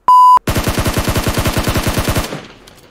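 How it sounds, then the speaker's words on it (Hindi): Rapid sustained automatic gunfire laying down covering fire in PUBG, about twenty evenly spaced loud shots in a steady burst, preceded by a short electronic tone and trailing off at the end. "कवर फायर देते हुए तन्मय भट्ट"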